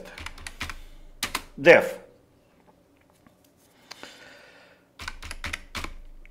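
Keys tapped on a computer keyboard while entering Python test code, heard as short bursts of close clicks before and after a quiet gap, with a brief spoken word mixed in.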